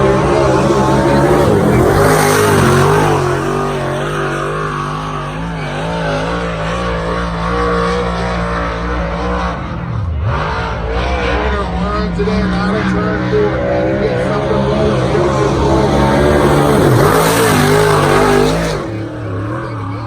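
A race car fitted with a new battery runs at the track before hot laps and qualifying, its engine droning loudly and steadily with rises and dips in revs across the whole stretch, with some talk beneath.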